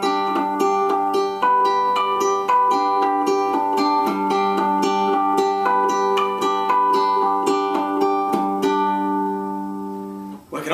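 Artificial harmonics strummed across several guitar strings, ringing bell-like chords struck repeatedly in a steady rhythm, close and clear with no talking, fading at the end.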